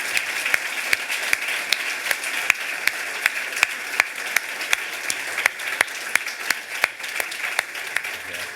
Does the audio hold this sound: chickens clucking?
no